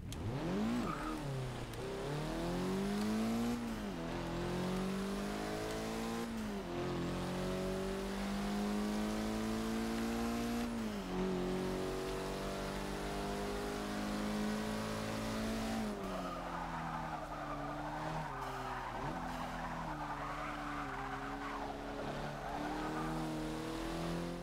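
A 2006 Mitsubishi Lancer Evolution IX MR revs hard on a track through repeated gear changes, the pitch climbing and dropping as it accelerates and brakes, with occasional tire squeal, loud and close.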